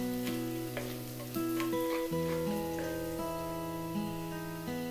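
Pork and garlic browning in a pan for Filipino pork mechado, giving a steady close crackling sizzle that stays fairly quiet, with no talk.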